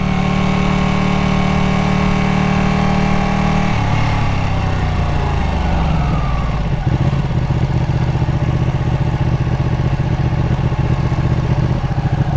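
Ducati 959 Panigale superbike engine, loud and close throughout, first a steady high rev that drops sharply near four seconds, then a rough, pulsing lower idle-like throb with no talking.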